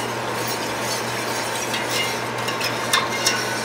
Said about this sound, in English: Just a few minutes like this to scrape everything nice.